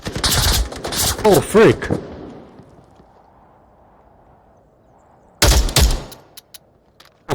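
Gunfire in the VR shooter Onward: a quick, loud burst of close shots at the start, then a low quiet stretch, and another short sharp burst later, with a man's brief exclamation between them.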